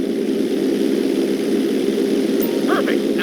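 Steady propeller plane engine drone in GTA 5 during a knife-edge flight, constant and fairly loud throughout, with a brief voice at the end.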